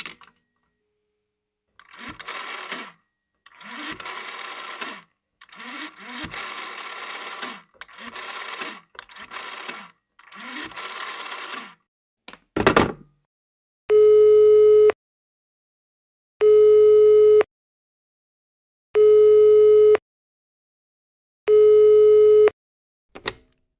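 A telephone is handled and a number dialed in a run of short rotary-style clicking bursts, followed by a clattering handset and then four evenly spaced, steady ringback tones on the line, loud and close, with no talking.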